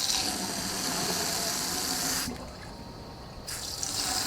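Water rushes from a low-pressure hose during a cooling system flush on a 1995 Ford Crown Victoria: a steady, close hiss that drops quieter for about a second, then surges back.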